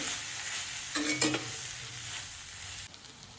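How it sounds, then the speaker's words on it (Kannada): Fried potatoes being stirred into masala in a frying pan for aloo bhindi masala fry, a steady sizzle with a couple of louder scraping stirs near the start, close and alone. "ಈ ಆಲೂಗಡ್ಡೆಗೆ ಸಹ ಮಸಾಲೆ ಎಲ್ಲ ಮಿಕ್ಸ್ ಆಗೋ ಥರ ಚೆನ್ನಾಗಿ ಇದನ್ನು ಮಿಕ್ಸ್ ಮಾಡ್ಕೊಳ್ಬೇಕು"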